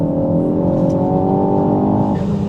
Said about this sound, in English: if you kind of accelerate flat out from a corner, it gives you a little bit of leeway, and then the power comes in